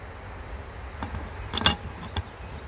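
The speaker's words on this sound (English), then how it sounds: "And I got a bee in there." Honey bees at a beehive, checked by a beekeeper before winter, give a faint, low insect buzz with a few brief louder bursts near the middle.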